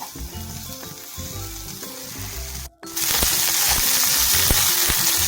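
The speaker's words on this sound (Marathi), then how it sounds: "आता आपण भाजून घेऊया मसाले भाजून घेऊया आपले कांदे भाजून घेऊया" Onions and spices sizzle and fry loudly in a hot pan for a bottle gourd curry, with stirring clinks; the sizzle briefly cuts out, then returns brighter and stronger.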